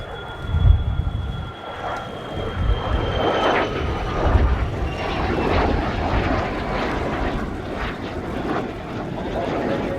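A US Air Force U-2S high-altitude reconnaissance aircraft flying a display at RIAT 2025, its engine roar loud and steady throughout, swelling slightly as it passes, with faint crowd noise beneath.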